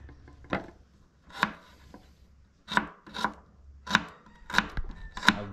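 An onion is chopped with a knife on a board, about eight sharp, close thuds coming in uneven bursts with short pauses between them.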